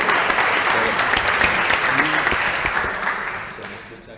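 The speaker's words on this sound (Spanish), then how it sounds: "Un aplauso para Pablo, por favor." An audience at a One Health conference in Spain gives a speaker a sustained round of applause, dense and steady, with faint voices mixed in before it tapers off at the end.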